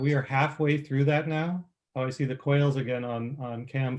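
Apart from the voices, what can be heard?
None of the usual background noises is heard.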